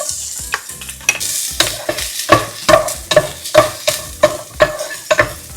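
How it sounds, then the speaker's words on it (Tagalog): Ginger, onion and garlic sautéing in a little oil for chicken curry, a steady crackling sizzle broken by a regular rhythm of loud spatula scrapes and stirs against the pan, close and without speech. "Igisa na po natin ang luya. Sibuyas."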